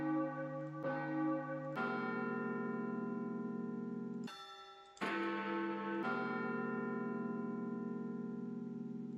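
A bell sample played back on a computer rings out as a rich church-bell tone with sustained overtones, struck several times in succession with a brief harsh noisy burst partway through, loud and clear without talk.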